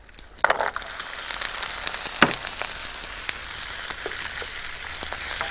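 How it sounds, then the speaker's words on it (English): Chopped celery and carrots frying in hot oil in a pan, a close steady sizzle with sharp crackles and spatters, plus a few louder clatters of stirring near the start. "Then I'm going to fry the chopped celery"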